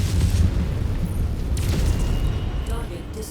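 A deep booming blast of a destroyed target in the mech combat game MechWarrior 5 rolls out low and heavy, with a voice talking over the rumble.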